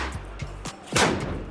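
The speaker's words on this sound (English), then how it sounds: "an Israeli policeman intervened by firing into the air" Sharp gunshots fired into the air by a policeman during street unrest, several close, hard cracks in quick succession, the last one loudest.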